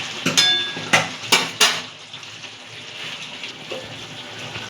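Goat stomach and liver curry is stir-fried in oil, with four sharp clanks of a spoon against the pan early on, then a soft continuous sizzle close by, and no one talking.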